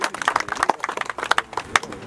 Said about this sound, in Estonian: Vau, see väärib aplausi!